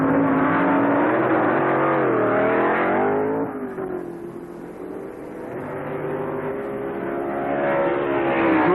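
Pro Stock drag race with Grumpy Jenkins' small-block Chevy Vega, a loud high-revving engine scream climbing through gears, then dropping away as it recedes into the distance before rising again.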